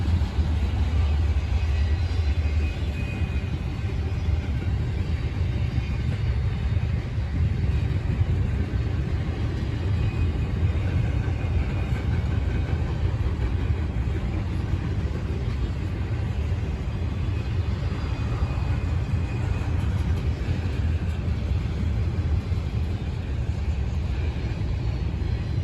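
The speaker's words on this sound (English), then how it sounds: "in came Norfolk Southern 268 with a couple of Norfolk Southern GEVOs" A Norfolk Southern freight train led by GE Evolution locomotives rolls past at Berea, Ohio, producing a continuous loud low rumble and wheel roar that stays steady throughout.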